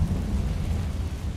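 A Confringo fire-blast spell from Hogwarts Legacy lands as a continuous heavy low rumble, a dense rolling roar that holds steady throughout with no voices.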